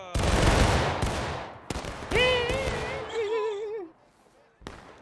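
Volley of rifle fire from a company of soldiers, a loud crackling burst of many overlapping shots, then scattered further shots and a shouted voice, close and dominant.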